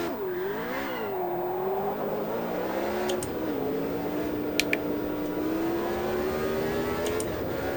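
A race car engine in the sim racing game Automobilista 2 revs and accelerates with a loud, steady whine that rises and shifts through gears. A few sharp clicks cut in near the end, and no one speaks.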